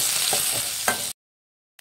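Cumin seeds frying on a medium flame for a Kannada holige saaru, a close, brief sizzle with a couple of stirring scrapes before cutting to silence, with a short burst returning at the very end.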